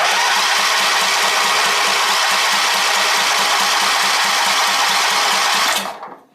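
A zero-turn mower's small engine is cranked without choke, giving a loud, fast, rhythmic chugging drone that holds steady for about six seconds before abruptly cutting out. No one talks.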